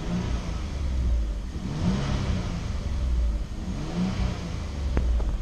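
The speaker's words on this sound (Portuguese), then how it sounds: "hoje, o barulho original dela, eu vou mostrar pra vocês como que é." Hyundai Grand Santa Fe with a 270 hp 3.3 V6 and original exhaust, running with a low, smooth rumble and gentle revving swells, quiet and even, no voices over it.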